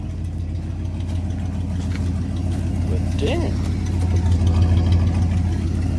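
An old Ford F-250 pickup truck, 1979 or 1985 and found abandoned, idles with a steady low engine rumble and intact exhaust, close and continuous, while someone speaks briefly over it.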